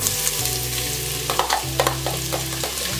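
Vegetables (onion, carrot and bell pepper) hit melted lard in a hot pot, setting off a loud, continuous sizzle with a few sharper crackles and stirring clatters, no talk.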